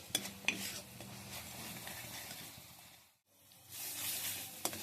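Spice paste ground with beet being stir-fried in a pan for a Bengali flat bean dish, with soft frying sizzle, scraping stirs and a few sharp metal clinks of the spatula, briefly dropping out before the hiss resumes.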